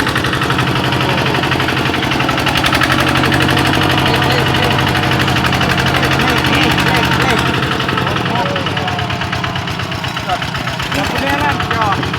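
A motorbike engine runs steadily and loud at close range while riding in rural Laos or Thailand, a continuous droning hum with a voice talking over it throughout.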